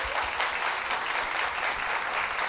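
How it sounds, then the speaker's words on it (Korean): An audience at a 2030 policy talk event with Minister Yoo Il-ho claps steadily for a couple of seconds, a dense, even applause that fills the hall with no voices over it. "여러분 박수로 시작하겠습니다."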